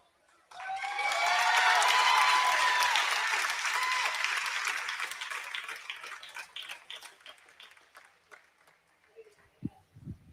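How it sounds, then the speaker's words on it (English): A large crowd at a 4-H livestock show ring at a state fair bursts into a loud round of applause that swells quickly, holds for several seconds, then thins into scattered claps and faint knocks. "Let's give them a big round of applause."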